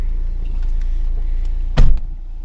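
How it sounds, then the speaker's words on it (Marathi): A car being parked for the M2M ferry from Mumbai to Mandwa idles with a steady low engine rumble, then a single sharp thud of a door or hatch closing near the end. "गाडी लावतील इकडे"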